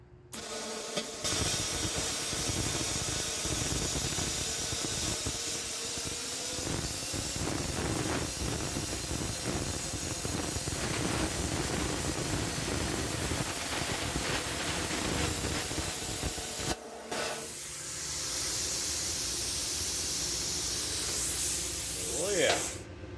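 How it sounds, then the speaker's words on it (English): Plasma cutter slicing through metal on a 1998 Dodge Dakota during rear air suspension work, a steady loud hiss of spraying air and sparks running for most of the time, briefly cut off near the end before resuming. "So we'll see what we can do with that plasma cutter."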